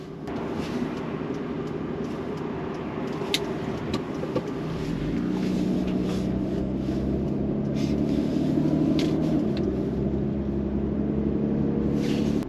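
Jaguar XJS 4.0 pulling away in drive, a low steady engine rumble that swells and rises in pitch as it moves off, heard from inside the car.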